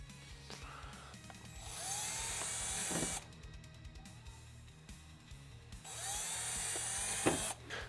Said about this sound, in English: I'm going to grab the drill and get drilling.